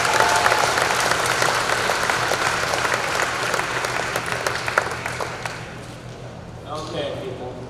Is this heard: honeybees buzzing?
no